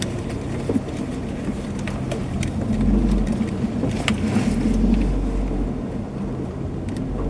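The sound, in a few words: car being parked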